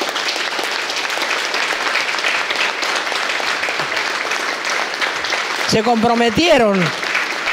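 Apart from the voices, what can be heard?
applause for workers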